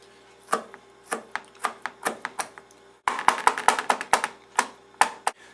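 A knife finely chopping peeled garlic cloves on a cutting board, sharp close taps coming in uneven bursts that speed up and grow louder partway through.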